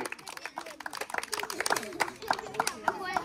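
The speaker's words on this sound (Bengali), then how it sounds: "জোরে তালি হবে।" Village crowd at a ring-toss game festival clapping in quick bursts of many hands, with chatter and voices mixed in close by.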